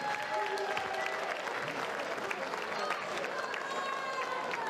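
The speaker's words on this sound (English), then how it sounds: "So, massive round of applause." Sustained applause from a boxing fight night crowd in Hull after a technical knockout, steady and dense throughout with a faint tonal hum underneath.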